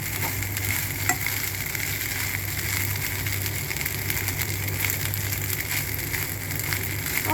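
Leftover chicken, broccoli and cuttlefish fried with rice in a pan, a continuous close sizzle with scraping stirring throughout, steady and loud without any talk.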